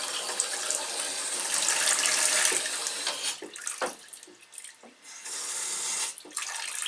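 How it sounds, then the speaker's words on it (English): Water runs and splashes steadily from a leaking kitchen faucet into the sink, loud and close, then drops to intermittent gushes and drips before the flow picks up again. "Oh, these taps are leaking, look."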